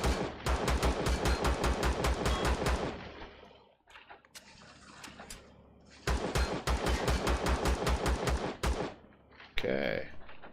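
Gunfire from a gun in the space-survival game Empyrion: two long bursts of rapid, evenly spaced automatic shots, loud and close, separated by a quieter gap with scattered clicks, and a brief tonal chime at the end.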